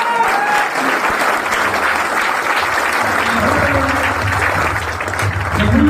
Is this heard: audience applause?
yes